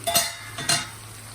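Tomatoes stirred in a pan while cooking for a methi masala, two short scraping stirs with a soft sizzle in a quiet kitchen.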